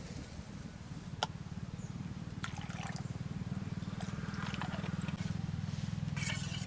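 Hot water poured over prawns with turmeric and vinegar in a village kitchen, a steady close pouring and bubbling rush running throughout with a few sharp clinks.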